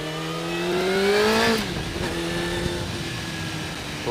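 A Suzuki GSXR 750 K1 sport motorcycle revs up, its engine pitch climbing for about a second and a half before dropping back to a steadier drone.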